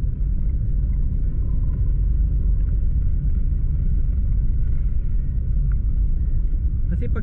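A 2006 Mitsubishi Adventure GLS Sport engine-brakes on a test drive, a loud, steady, low rumble heard from inside the cabin with no break.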